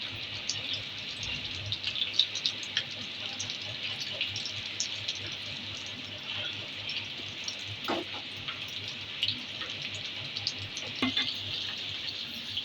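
Chicken peri bites fry on a medium flame with a steady, dense sizzle of hot oil that runs throughout. Occasional soft scrapes and stirring knocks come through, and no one speaks.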